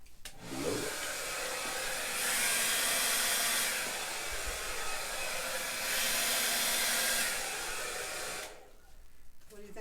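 Hair dryer blowing across wet acrylic pour paint, a steady loud whoosh with two stronger surges as the air is pushed closer, then cutting off near the end.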